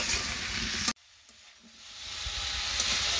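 Vegetables with turmeric and chilli sizzle and fry loudly, a sharp scrape of stirring cutting in before the hiss rebuilds steadily.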